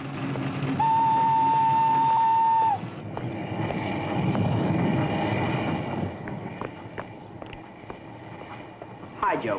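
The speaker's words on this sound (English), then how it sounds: "what's the matter with the train? Now then, there it is." A train pulling into a station in a Disney live-action story, with a sustained whistle blast early on followed by rumbling wheels and clanks, while people talk over it.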